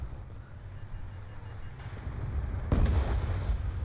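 A Black Ops 2 video game explosion bursts out about midway, a loud broadband blast over a low rumbling game soundtrack, with a brief high electronic tone just before it.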